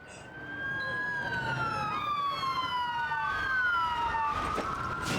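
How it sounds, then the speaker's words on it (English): Several ambulance sirens blare in the game Trauma Team, their wailing tones overlapping and sweeping up and down, loud and steady for the whole stretch with no talk over them. "Why else would 3 ambulances with their alarms blaring?"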